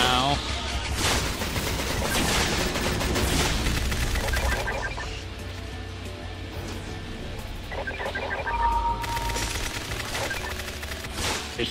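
Sniper and other gunfire in a chaotic online shooter match, with rapid cracks and bursts dense through the first half, a lull, then another loud volley near the end, with shouting players and game noise throughout.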